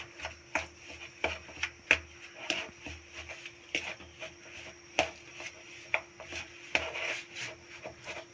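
Bread dough being worked by hand with desi ghee (about 3 to 4 spoonfuls) for bread paratha, giving a run of soft, irregular squishing and slapping taps at close range, steady through the clip without any talking.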